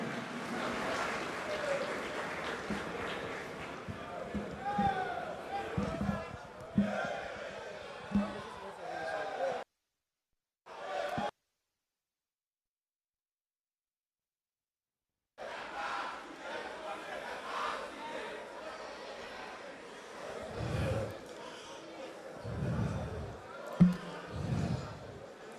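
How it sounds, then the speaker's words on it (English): Crowd noise from the audience at the NSMQ 2023 Grand Finale quiz competition, with cheering, applause and chanting filling the hall under an announcer's voice, cut off by a few seconds of silence before the noise resumes. "Can we give a better round of applause to Primetime?"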